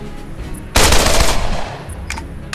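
A Kalashnikov rifle in the video game Code of Honor fires a loud, sustained burst of automatic gunfire, then falls away, leaving faint bright clicks and a short final report.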